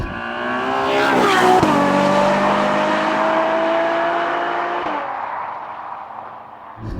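A high-revving Ferrari V12 engine screams up sharply, holds a loud sustained wail for several seconds, then its pitch drops as the sound eases off.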